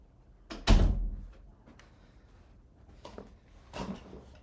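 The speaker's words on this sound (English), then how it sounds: "I'll shut my door" A door shuts with a single solid thump near the start. Quieter handling knocks and rustles follow in a room with no talking.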